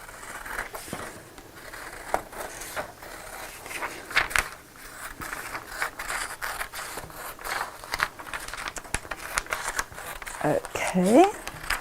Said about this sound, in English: And I'm using my paper scissors, not my fabric scissors.